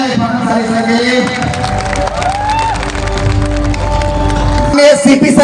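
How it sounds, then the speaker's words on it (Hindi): A large crowd at an RCM silver-jubilee gathering in Ranchi, Jharkhand claps and cheers loudly and continuously, with shouting voices mixed into the sustained applause. "तो एक बार जोरदार तालियां इस भानुशाली सर के लिए।"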